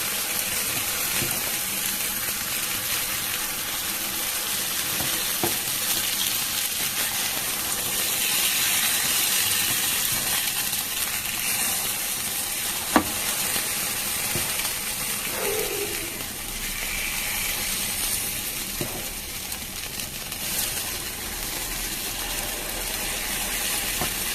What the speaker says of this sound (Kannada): ಇದಕ್ಕೆ ಸ್ವಲ್ಪ ಎಣ್ಣೆ ಹಾಕ್ತಾ ಇದ್ದೀನಿ. ಪಡ್ಡುಗೆ ಸ್ವಲ್ಪ ಎಣ್ಣೆ ಜಾಸ್ತಿ ಬೇಕು